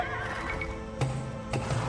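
Horses in the Age of Empires II game whinny in a short, clear burst over a sustained tonal game soundscape, with a couple of sharp thuds punctuating the sound.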